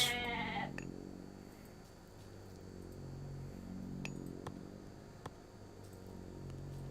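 Goats in the video game Age of Mythology give a short, faint bleat at the start, followed by quiet game ambience with a few soft clicks.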